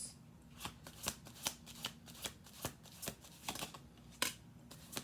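Tarot cards are shuffled close by in a quiet room, a rapid series of crisp riffling snaps and slaps repeating at a roughly even rhythm, with no one speaking.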